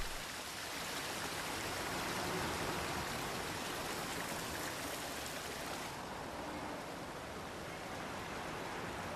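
A bubbling stream running through a city water spot where hooded crows drink and bathe, a steady broadband rush of flowing water continuing evenly throughout, with no voices.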